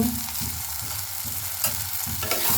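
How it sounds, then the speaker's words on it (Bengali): Vegetables sautéing in a pan with chili, coriander and cumin powder, a soft continuous sizzle broken by regular scraping strokes of a spatula, close and alone. "এবার আবার একটু কষিয়ে নিই"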